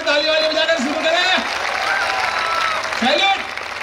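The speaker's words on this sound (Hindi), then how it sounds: "पूरा एक बार ताली वाली बजाकर शुरू करें" Audience applause at the start of a headmaster's comic speech at a kavi sammelan, loud steady clapping with a speaking voice over it and crowd murmur.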